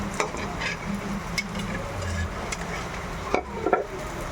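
Moringa omelette (tortang malunggay) frying in a pan, with a soft continuous sizzle under scattered scraping and stirring clinks from a utensil, several sharper knocks near the end.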